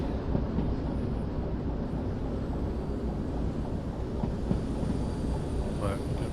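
A train locomotive running in the railway video game Derail Valley: a steady, low mechanical rumble that stays even from start to finish, with a faint voice underneath.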